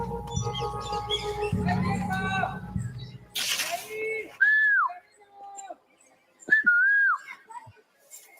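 Two clear rising-falling human whistles near a Mazatec setting, loud and close, following a stretch of Spanish talk and background noise.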